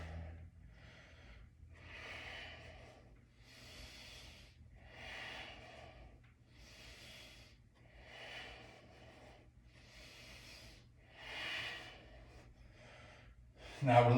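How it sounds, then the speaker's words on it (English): Slow, deep breaths during a yoga flow, each inhale and exhale soft and close, repeating in an even rhythm roughly every second and a half over a quiet room tone. "let's take a few breaths here"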